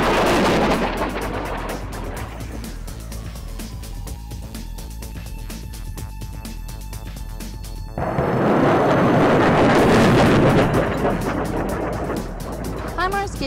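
A HIMARS truck-mounted rocket system fires training rockets during a live fire exercise at Camp Pendleton's Range 408, a loud roaring blast that fades into a long rumbling tail, then a second heavy roar swells and holds.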